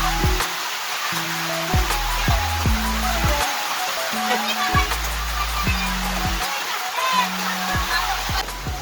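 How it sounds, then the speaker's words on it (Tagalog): Heavy rain pours down outdoors in a steady, dense hiss that fills the scene, with people talking and a voice over the downpour. "Lakas ng ulan."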